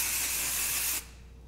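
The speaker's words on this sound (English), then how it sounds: "use some sort of texture spray" Texture spray hisses from an aerosol can onto hair in one loud, steady burst about a second long that cuts off sharply.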